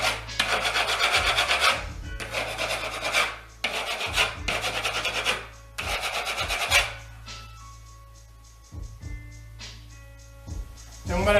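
A 5-way knife spreads painter's putty into nail and bolt holes in a wall, making four loud, close scraping strokes in a row, then a quieter stretch with faint tones and a final short scrape.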